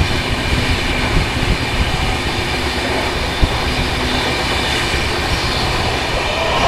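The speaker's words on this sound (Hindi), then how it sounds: "WAG5 लोकोमोटिव लीड कर रही है इस ट्रेन को।" A train hauled by a WAG5 locomotive rumbles past at speed, a steady loud roar of wheels and wagons with faint clickety-clack running throughout, no voices.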